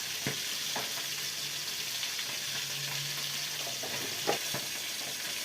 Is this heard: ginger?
yes